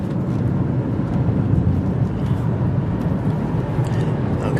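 A steady, loud roar of a jet aircraft near O'Hare airport, heard from a moving car with broad rumbling noise and no distinct events throughout.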